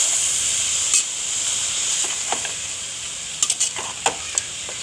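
Kirksale greens are stirred into a spiced tempering in a pan, giving a continuous hissing sizzle with scattered light scraping clicks from stirring near the end.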